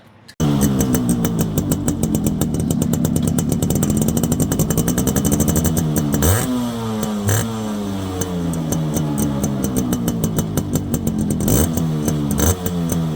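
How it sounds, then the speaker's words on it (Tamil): A Yamaha RX100 two-stroke motorcycle engine, fully restored, idles with a rapid, steady beat close by, blipping the throttle a few times into brief revs before settling back. "இப்போ இந்த வண்டியோட பீட் சவுண்டு கேட்கலாம் வாங்க."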